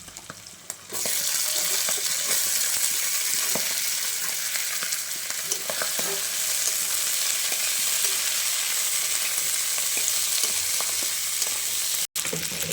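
Broccoli, carrot and potato stir-frying in a hot pan, a loud steady sizzle that runs almost unbroken with faint scrapes from stirring and one sharp cut near the end, no voices.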